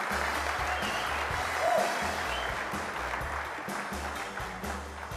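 Audience applause at a SolidWorks World 2013 awards segment as a reseller third-place winner is announced, a steady mass of clapping heard from within a large hall, with a low hum underneath.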